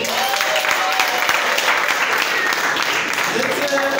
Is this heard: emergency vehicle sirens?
no